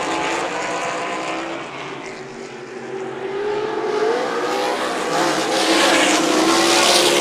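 Sprint cars race at Meridian Speedway, a loud, continuous engine roar that swells as the pack passes close, with rising and falling pitch and no voices.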